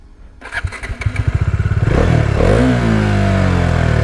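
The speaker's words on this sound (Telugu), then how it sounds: "Bajaj DTSI triple spark engine అనమాట ఇది, ఇంజన్ కిలాన్." A Bajaj Dominar 400 motorcycle with its DTSI triple spark engine starts with rapid clattering pulses, then revs up into a loud, close, sustained roar, heard alone without voices.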